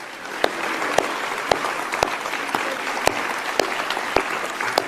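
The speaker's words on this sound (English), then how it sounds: "Let's give a huge round of applause for people who've been standing a very long time behind us." Sustained crowd applause rises at an outdoor federal funding announcement for athletes and sport infrastructure, a dense steady patter of many hands with a few sharper individual claps standing out near the microphone.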